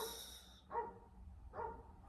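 Two short, muffled barks from a dog, evenly spaced and somewhat distant, over a faint background hum.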